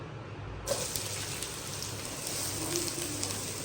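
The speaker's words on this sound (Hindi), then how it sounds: "अब हम प्याज को फ्राई करेंगे।" Onions hit hot oil in a pan and fry with a sudden burst of loud, dense sizzling that then continues steadily and close by, with faint stirring noises.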